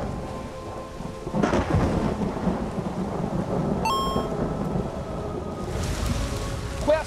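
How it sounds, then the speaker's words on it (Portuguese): Rain and a rolling thunderstorm from Ori and the Will of the Wisps, a steady loud downpour with deep rumbles of thunder running throughout, plus brief chiming game effects, alone with no talk. "Ih, a chuva, hein?"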